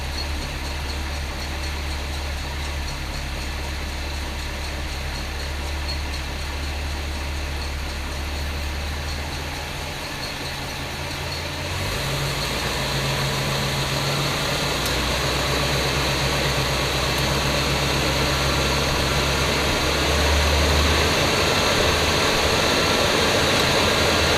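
A 1966 Ford Galaxie 500 convertible engine idles steadily on a slow fast-idle setting, a continuous low rumble heard up close and alone, growing a bit louder partway through with no talking.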